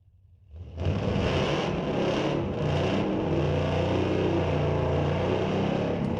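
Drag racing at Mission Raceway, the 17 Camaro among the cars launching down the strip; a loud engine roar swells in after a quiet start and holds steady and continuous to the end, with no voices.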